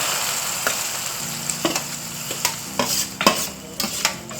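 Onions sautéing and sizzling in a pan while a spoon stirs them, with a steady frying hiss and a string of scraping clinks against the pan, for a Tirunelveli-style side dish.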